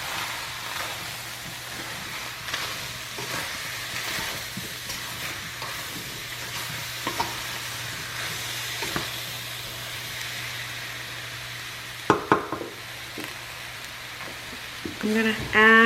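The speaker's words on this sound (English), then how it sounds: "I'm going to add a little water at the bottom. Can you hear it sizzle?" Water sizzling in a pan with strawberries and rhubarb, a soft steady hiss with occasional stirring clinks and scrapes, growing louder at the end.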